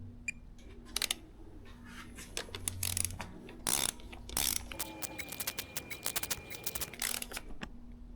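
A wrench ratcheting and clicking as small ARP head studs on a 6.0 LS engine are torqued to 28 foot-pounds, with close, crisp rapid clicks in uneven bursts over a faint background hum.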